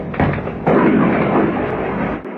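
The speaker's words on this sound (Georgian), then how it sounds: "ჯანდაბა, აფეთქება ჩავწერე." An explosion from a Russian missile strike in Ukraine, caught on camera: two sharp onsets quickly merge into a loud, sustained rumbling boom that slowly fades.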